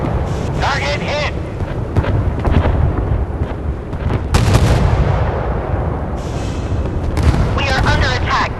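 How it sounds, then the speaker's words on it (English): Warship artillery fire in the naval combat game Force of Warships: loud repeated booming gun blasts and explosions over a constant roar of battle, with radio-style voice callouts heard between the shots. "We are under attack. Damage reported. Hit confirmed. Fire at will."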